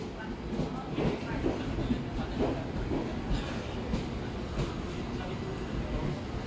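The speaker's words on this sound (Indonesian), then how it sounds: "Di jalur 7 masuk kembali komuter lain tujuan Tanjung Priuk rangkaian 8 kereta" A KRL commuter electric train, an eight-car set bound for Tanjung Priuk, pulls into track 7 at Jakarta Kota station with a steady rumbling roll and faint wheel clatter that continues throughout.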